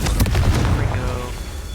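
A Confringo spell blast from Hogwarts Legacy, a loud booming explosion with a heavy low rumble and crackling burst that decays over under two seconds, with a voice talking beneath it.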